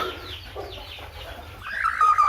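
A broody hen on a poultry farm makes low, continuous clucking and grumbling sounds up close, rising slightly toward the end.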